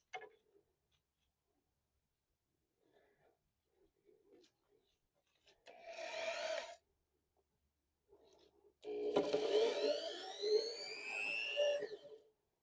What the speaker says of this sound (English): So now I'm going to drill the hole here